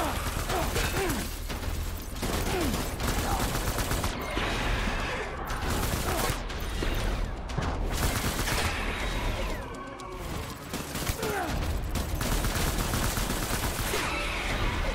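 Dense gunfire in the Death Stranding game, rapid bursts of shots and automatic fire packed tightly together, loud and continuous with mechanical clatter, briefly easing near the middle.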